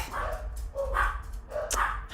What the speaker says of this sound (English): so you can hear my dogs barking